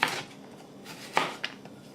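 A knife slicing cucumber on a cutting board, a few soft, quiet cuts with light taps spaced irregularly, heard alone.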